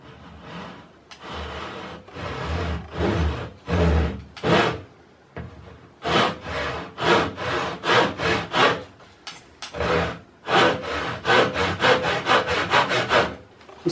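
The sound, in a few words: hand saw cutting wood at 45 degrees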